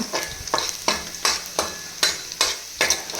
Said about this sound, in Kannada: ginger garlic already golden brown ಆಗ್ತಾ ಇದೆ